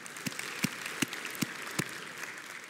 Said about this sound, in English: Can we just give the Lord just a round of applause for that?